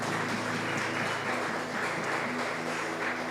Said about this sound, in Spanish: Podemos darle un aplauso a Dios.